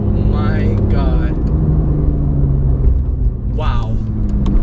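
Porsche GT3 sports car driving fast through a corner, its engine a loud steady roar with rising revs and a couple of brief whining gear sweeps, close to the microphone as someone talks over it.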